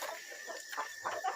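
Backyard chickens, hens and a rooster, clucking softly in a few short murmured bursts at a distance, quiet and without talk.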